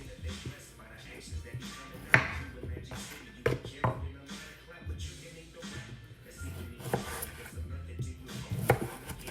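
Knife chopping food on a board in a home kitchen while a vegetarian caramel dish is prepared, with irregular thuds and taps scattered across the span, heard beneath ongoing talk.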